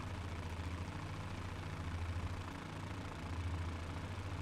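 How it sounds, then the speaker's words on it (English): The single engine of a Fokker F.VII triplane in Microsoft Flight Simulator 2020 drones at a steady, low, slightly puttering pitch, continuous and fairly quiet, with no talking. "Engine does feel a little puttery"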